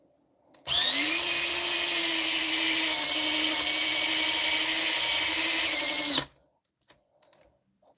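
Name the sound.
electric resin sanding tool smoothing a piece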